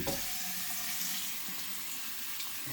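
Water from a kitchen faucet runs steadily onto a waterproof cover fitted over a J2K pickleball paddle, a continuous hissing splash heard close and alone.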